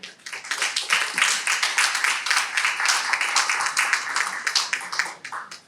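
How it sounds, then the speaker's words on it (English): Audience applause at a Toastmasters meeting: a dense, steady round of many hands clapping, sustained and fairly close, tapering slightly at the end. "Big round of applause for them"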